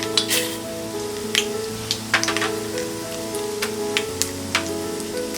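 Cumin seeds, chana dal and urad dal sizzle in hot oil, a steady frying hiss broken by frequent sharp crackles and pops, close and loud.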